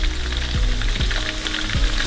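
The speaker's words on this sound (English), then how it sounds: "Once I have the sizzling going" Onions fry in a pan for pepper snail escargot with a loud, dense sizzle that crackles continuously up close. A few soft scraping stirs come at regular intervals.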